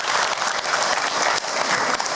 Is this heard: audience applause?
yes